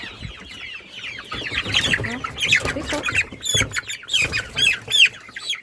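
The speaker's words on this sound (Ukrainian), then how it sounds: "Оце, напевно, також півник." A rooster clucks and squawks repeatedly up close, busy agitated calls with other fowl noise mixed in.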